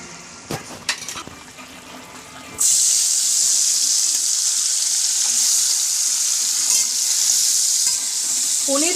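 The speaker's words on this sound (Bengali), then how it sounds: "তার জন্য এই পনিরটাকে প্রথমে ভেজে নেবো" Paneer pieces hit hot oil in a pan at about 2.6 s and fry with a loud, steady sizzle that holds to the end, after a few light clinks and taps at the start.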